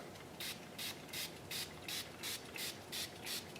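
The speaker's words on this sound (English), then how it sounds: "just spray this on real good" Short, evenly spaced hissing sprays from a spray bottle of watered-down glue repeat about nine times over a quiet background, each burst lasting a fraction of a second.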